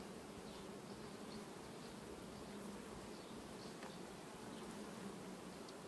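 Honeybees buzz steadily around a hive colony that is rearing larvae and brood, a dense, continuous hum held at even loudness throughout, with no voices.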